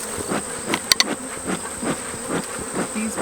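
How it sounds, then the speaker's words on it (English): Agitated Buckfast honeybees in an open hive give a steady, close, slightly tense buzzing drone, with no voices. "You can hear the change in the tone of their buzz when they're a little bit put out by"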